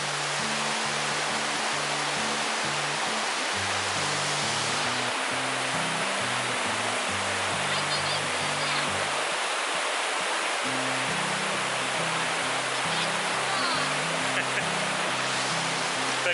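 A waterfall rushes in a steady, loud, broadband roar that fills the whole stretch without letup, with low murmuring tones that could be distant voices underneath.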